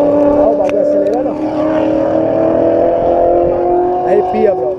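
Drag race car accelerating at Interlagos, a loud sustained engine howl that holds steady throughout, with voices and crowd noise mixed in.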